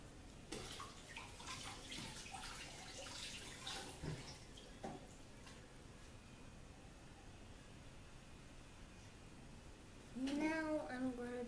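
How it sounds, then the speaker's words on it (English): Hands are washed under a running kitchen tap, a steady soft hiss of flowing water with faint splashes, heard quietly in a home kitchen, with a brief voice near the end. "I'll just wash my hands out."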